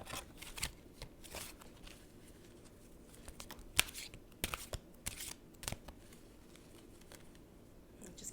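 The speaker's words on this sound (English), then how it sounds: "I'm just going to pull the deck, give it a quick shuffle" A tarot card deck is given a quick shuffle by hand, producing soft riffling and scattered crisp card snaps and taps, close but quiet over a faint background hiss.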